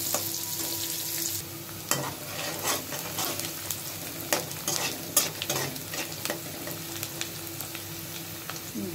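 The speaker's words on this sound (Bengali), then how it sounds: "আমি পেঁয়াজটা ভালোভাবে ভেজে নেব।" Onion fries in a pan with a steady crackling sizzle, broken by repeated scraping stirs and spatula knocks, close and continuous.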